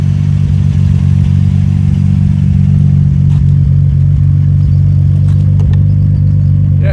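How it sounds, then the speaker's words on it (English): A car with a Midori Seibi Silent 2 titanium exhaust revs loudly and close by, its deep engine note holding steady with bursts of throttle and some mechanical clatter, with no voices. "that was the Midori Sebi Silent 2 exhaust."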